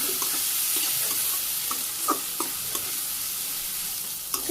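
Dal frying in oil with sliced green chillies, a steady bright sizzle with scraping stir strokes and soft clicks of the spoon against the pan, close and continuous with no voices.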